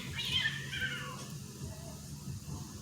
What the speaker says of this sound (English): y'all heard them cats fighting?